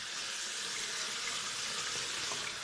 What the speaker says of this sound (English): I'm just going to run water in the sink